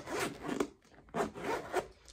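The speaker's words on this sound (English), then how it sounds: "the zipper, all I had to do was throw some Vaseline on her" A zipper on a canvas bag is worked back and forth in two quick, raspy pulls, close and clear with no talking.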